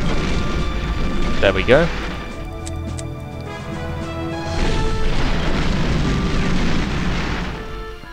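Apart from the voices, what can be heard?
artillery bombardment explosions in a video game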